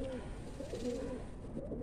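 A pigeon held in the hand in a loft gives a few soft, low coos in a short rolling series, faint and close against quiet background noise.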